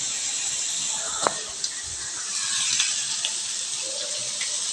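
Tap water runs steadily while ground mustard paste is rinsed in a Bengali kitchen, a continuous close hiss with a few small knocks and splashes.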